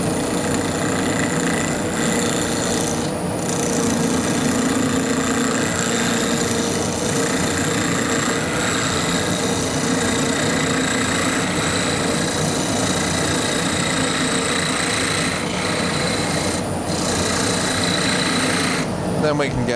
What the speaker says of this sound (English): So I'm going to start nice and simple, just with a bowl gouge.